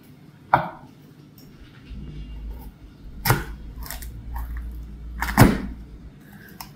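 A knife chopping carrots on a board, three separate sharp chops spaced a few seconds apart, close and fairly crisp against a quiet kitchen background.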